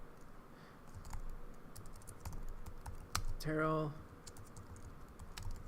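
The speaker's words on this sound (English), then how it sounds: "We'll just click in there with using our text tool. We just clicked in there and we're just gonna start typing." Fingers type on a computer keyboard in a series of quick, irregular clicks, soft and close, while a person speaks briefly over them.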